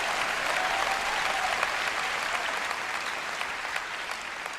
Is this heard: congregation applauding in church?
yes